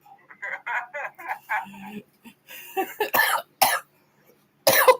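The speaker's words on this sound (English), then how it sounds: "That always got me laughing to where I coughed" A man coughs a few times in sharp bursts near the end after laughing and talking, close and fairly loud.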